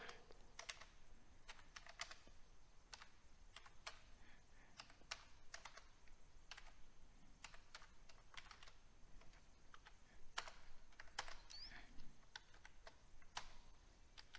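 Code being typed on a computer keyboard: quiet, close, irregular key clicks in quick bursts with short pauses between them, and no talking.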